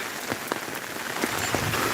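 Heavy rain pattering steadily on a surface outdoors in nature, with scattered heavier drops striking close by throughout.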